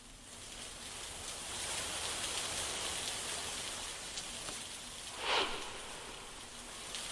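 Heavy rain pours steadily in southern Mumbai near Marine Drive, a dense, continuous hiss of falling water with a brief louder swell of splashing near the end, no voices.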